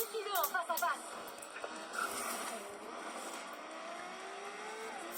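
A Ferrari engine in the racing game Forza Horizon 3 hums at a moderate, steady level, with a few short tonal beeps near the start and a soft drone that continues evenly.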